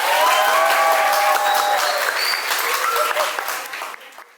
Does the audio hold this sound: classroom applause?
yes